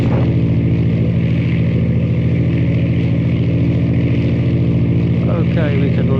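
A Piper PA-28 light aircraft in flight, its engine and propeller giving a loud, constant droning hum that fills the whole clip, with brief speech from the cabin near the end.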